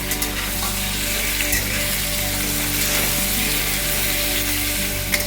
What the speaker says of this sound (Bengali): দিয়ে এবার আস্তে আস্তে ভালো করে এটাকে লাল লাল করে ভাজতে হবে।